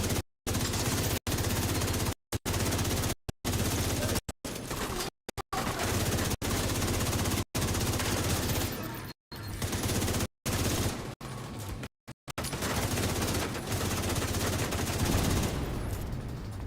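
Sustained enemy gunfire in The Division 2, dense overlapping automatic bursts and fusillades filling most of the stretch, broken by brief silent gaps, loud and close, with no talking.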